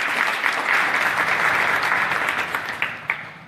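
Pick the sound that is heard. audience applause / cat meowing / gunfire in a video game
audience applause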